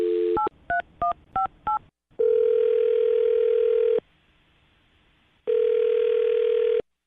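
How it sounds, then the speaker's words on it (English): A telephone number is dialed on a phone for a radio show call, giving five quick touch-tone beeps. Two long steady ringback tones follow, separated by a pause of silence. "Well, dialing her phone number right now."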